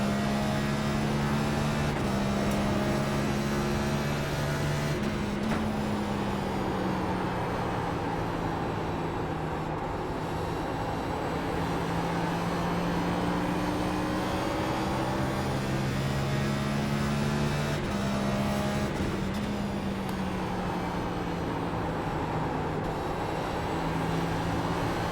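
A NextGen stock car lapping Phoenix in the iRacing simulator, its engine droning steadily at high revs with rising and falling pitch through the corners, loud and continuous for the whole lap with no talk.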